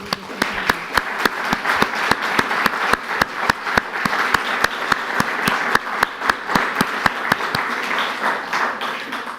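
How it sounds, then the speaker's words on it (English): Applause for the mayors at a sister-city twinning ceremony between Bordentown and Mortefontaine, held in a chateau: a room full of people clapping steadily for about nine seconds, with distinct sharp claps standing out over the dense patter. "I think they deserve a round of applause."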